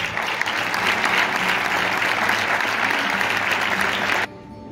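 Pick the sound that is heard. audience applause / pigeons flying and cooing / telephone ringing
audience applause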